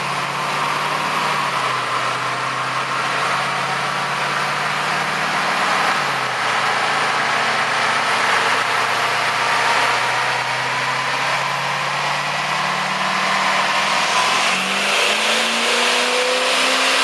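An 2008 Duramax LMM diesel Suburban with a stage 5 tune revs hard on a dyno, the engine roaring loud and close as its pitch climbs and dips through several sweeps without a break.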